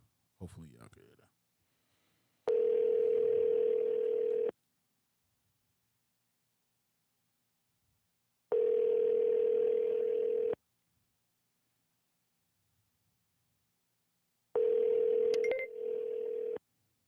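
Outgoing phone call ringback tone, three long steady rings spaced by silent pauses while waiting for an answer, preceded by a brief clatter of handset noise.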